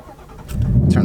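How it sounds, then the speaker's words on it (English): A 2018 Ford Mustang GT V8 engine starts up inside the car, a brief starter whirr swelling into a loud, deep rumbling idle, close and without speech. "turn the car on here"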